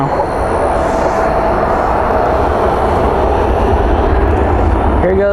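A Boeing 737 jet takes off at night at DFW airport, its engines a loud, sustained roar that holds steady, with a voice speaking briefly near the end.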